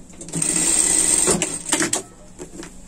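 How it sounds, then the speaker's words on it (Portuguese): A sewing machine runs in a steady, fast stitching burst as it sews lining onto a sling bag, then stops, followed by a couple of short clicks and handling sounds. "vamos passar a costura aqui"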